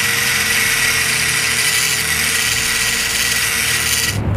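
Power tool driving screws to fasten a wooden form onto a concrete curb: a loud, steady whirring drone held for about four seconds before it cuts off. Nobody speaks.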